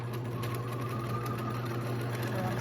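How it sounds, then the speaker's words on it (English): Sewing machine stitching lounge pants fabric runs as a steady, continuous hum close by. It goes on without pause and holds an even level. "I'm sewing up to my pin, and then I'll stop, pull that."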